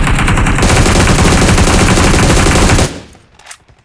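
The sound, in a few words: sniper gunfire in the video game PUBG Mobile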